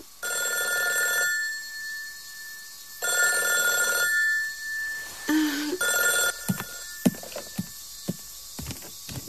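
A telephone bell rings in repeated bursts with pauses between, loud and close, followed by scattered knocks and clatter and no talk.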